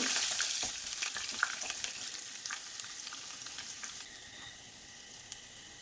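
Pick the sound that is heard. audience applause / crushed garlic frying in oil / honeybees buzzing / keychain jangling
crushed garlic frying in oil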